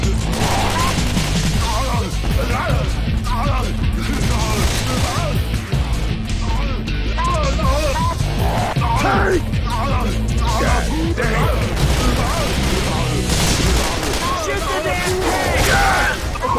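Gunfire in the zombie shooter Left 4 Dead, dense and chaotic, with continuous shots and crashes mixed with game music and shouting voices across the whole stretch.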